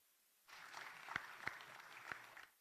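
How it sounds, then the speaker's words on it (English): Sparse applause at an ITU regional development forum in Africa, welcoming officials. It starts after a quiet half second, stays thin and distant, has a few sharp individual claps standing out, and fades near the end. "Can we welcome them with an applause?"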